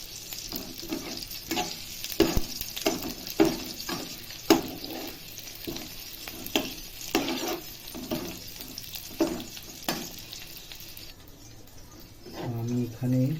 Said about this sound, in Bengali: আমি এখানে ভেজে নেবো এগুলোকে আস্তে আস্তে আস্তে করে, পেঁয়াজগুলো মোটামুটি ছেড়ে যাচ্ছে।